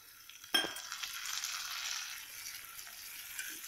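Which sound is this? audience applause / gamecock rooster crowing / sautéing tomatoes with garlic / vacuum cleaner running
sautéing tomatoes with garlic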